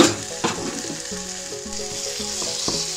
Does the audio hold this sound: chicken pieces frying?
yes